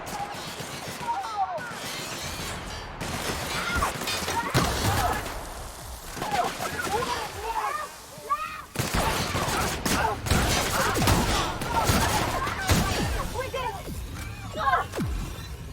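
Shotgun blasts ring out in The Outer Worlds amid a busy combat mix, with heavy repeated shots, crashes and clatter over steady game noise while someone talks.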